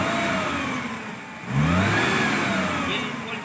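Maruti Omni engine running without its belt fitted, a steady mid-pitched idle close by that swells into a brief rev before settling back, with no voices over it.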